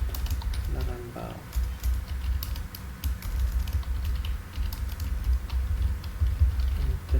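Computer keyboard keys tapped in short irregular bursts while entering a date into a web analytics tool, fairly faint and close, partly mixed with low background hum and a voice talking.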